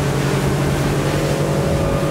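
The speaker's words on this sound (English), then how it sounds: "Now let's give it some wide open throttle." A Nimbus T9X motorboat runs hard under wide open throttle, a loud, steady engine drone with strong tonal hum and rushing water close by, no voices.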